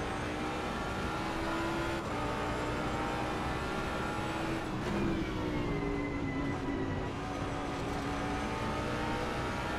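A Jaguar car engine pulling steadily around a corner then accelerating, a continuous droning note that rises and shifts in pitch, fairly close and unbroken.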